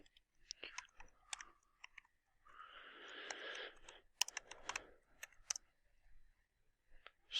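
Fingers type C++ code on a computer keyboard in quick, uneven bursts of light clicks, with a steadier run of key presses in the middle, close and quiet with no talk.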